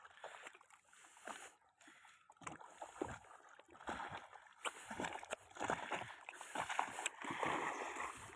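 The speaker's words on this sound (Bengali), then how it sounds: "মাঝি ভাই একা একা নৌকা নামিয়ে নিল।" On a Sundarbans riverbank at night, a boatman shoves a wooden fishing boat into the Bidyadhari River alone, giving uneven creaks, thuds and sloshing water in bursts, close and fairly quiet, with no talk.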